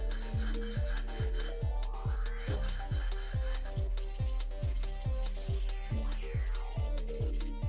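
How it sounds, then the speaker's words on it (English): A sharpening stone rasps back and forth inside a cut glass bottle in a steady rhythm of quick scraping strokes, close and continuous, with faint ringing from the glass. "For the interior of the glass, I do this manually using a sharpening stone."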